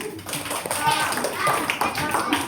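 A classroom of pupils and parents applauds a pupil during a Parents Teachers Day at an elementary school, with brisk, moderately loud clapping mixed with children's voices and chatter.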